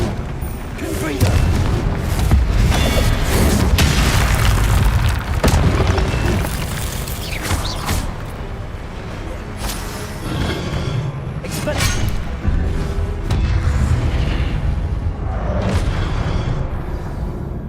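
Repeated Confringo blasting spell explosions go off during a Hogwarts Legacy fight, loud booms and sharp bursts with shattering debris over a thick, steady rumble of combat sounds.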